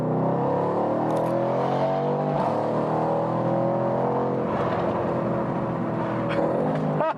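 A 2019 Mercedes-AMG C63S engine pulls hard under acceleration, heard from inside the car, loud and continuous with rising revs and a gear change partway through.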